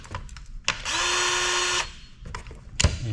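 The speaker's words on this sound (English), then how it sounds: "Gives me a chance to play with my DeWalt cutter" A DeWalt cutter whines at a steady high pitch for about a second while cutting into an arcade PC power supply during scrapping, framed by sharp clunks and handling knocks before and after.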